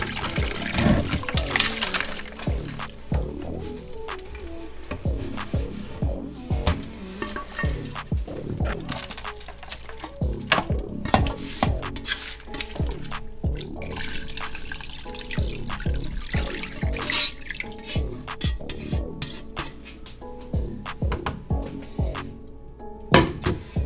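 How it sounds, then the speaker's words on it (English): Brine is poured slowly into a raw turkey being prepped for frying, making a steady close gurgling, splashing flow with scattered drips and small knocks. No one speaks. "now we're ready to pour our brine slowly into our turkey"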